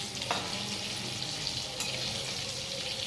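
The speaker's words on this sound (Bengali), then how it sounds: "আলুটা ভাজছি" Potatoes frying in a pan on a home kitchen stove give a steady, close sizzle that runs evenly throughout, with a couple of brief scraping stirs and no talking.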